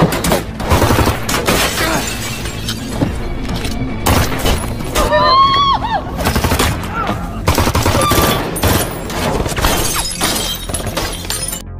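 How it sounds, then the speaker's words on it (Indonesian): Heavy gunfire fills a film shootout, rapid shots, bursts and shattering impacts piling up over a loud music score for several seconds, with faint voices in the mix. "Mike dan Steve terlibat baku tembak dengan Arthur."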